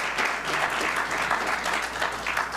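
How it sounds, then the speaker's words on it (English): Audience at a religious lecture breaks into sustained applause, a thick, even patter of many hands clapping close and loud throughout. "let's give Brother Minister Reggie a round of applause for the powerful words of insight"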